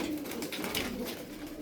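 Tumbler pigeons coo in a loft, a soft continuous burbling that stays steady and fairly close for the whole moment, with no talking.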